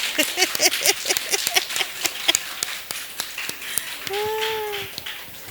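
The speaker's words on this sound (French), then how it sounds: "Les hommes, applaudissez pour nous." An audience at a talk on professional coaching claps in scattered, sharp beats that thin out partway through, and a short sustained tonal call rises near the end.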